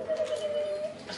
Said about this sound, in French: Donc, elle roucoule et elle.